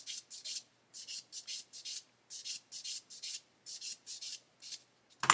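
A scuffed part of an Avro Lancaster B.III Dambuster scale model is polished by hand, giving close, quiet rubbing strokes in a steady back-and-forth rhythm of about a dozen short passes.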